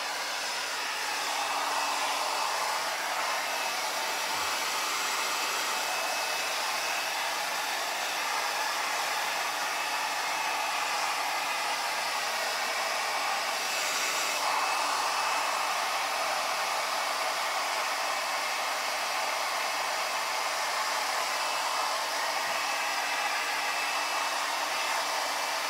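A hair dryer blows steadily and loudly for the whole stretch, a continuous broadband whoosh with no pauses and no voices.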